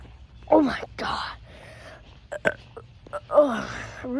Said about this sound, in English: root beer got me burping